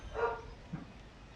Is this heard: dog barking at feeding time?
yes